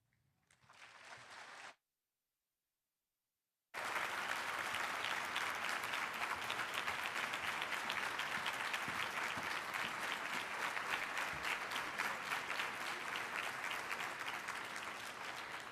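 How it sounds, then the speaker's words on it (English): A live audience bursts into sustained applause after a spoken-word poem, Nia Naomi Johnson's "Black": a short burst of clapping, a pause of silence, then a loud, dense, continuous ovation that carries on steadily to the end. "can we please give Ms. Nia Naomi Johnson another round of applause?"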